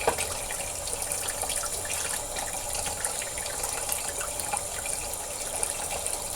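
Tap water runs steadily and moderately loud during a wet shave with a Rolls Razor, a continuous broadband splashing flow with small bright spatters and no talking.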